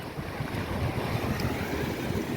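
Sea waves and wind on the shore at Alexandria, a steady loud roar of surf with gusting wind buffeting the microphone throughout, no voices.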